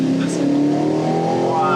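An Aston Martin Vantage engine revs and rises steadily in pitch, heard from inside the cabin as a loud, continuous climbing drone, with a voice talking over it.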